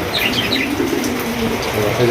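Pigeons on a pigeon farm coo softly in low, murmuring calls under steady background noise, with a faint voice in the mix.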